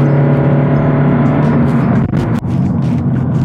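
A 2017 Honda Civic EX engine pulls hard under acceleration, a loud, close, steady rising drone with strong harmonics that continues without a break, with no talk.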